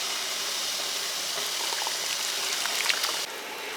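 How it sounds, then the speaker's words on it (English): Concord grape juice with pectin and sugar boils in a pot for jelly: a steady, close, fizzing hiss of bubbling liquid that holds evenly throughout, with no voices. "Stir it really well and bring it back to a boil."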